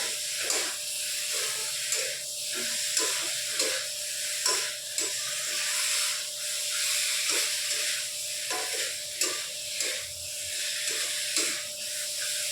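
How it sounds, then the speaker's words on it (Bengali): Boiled potato being stirred into a spice masala frying in oil, with a constant hiss of sizzling and repeated scraping stirs at an irregular rhythm, close and moderately loud. "এবার আলুটা আমরা মশলার সাথে ভালো করে মিশিয়ে নেব।"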